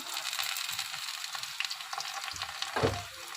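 Garlic and onion with panch phoron spices hitting hot oil in a pan, a brief close sizzle with a few scraping stir sounds and a louder burst near the end.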